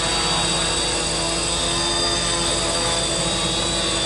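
Modified X cam quadcopter, its aluminium arms swapped for 25mm carbon tubes, flying with a constant loud high-pitched whine of spinning rotors that holds steady throughout.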